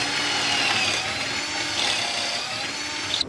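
Power drill boring a pocket hole through wood with a Kreg jig, a steady whirring drone held at even loudness for the whole stretch, close up with no voices.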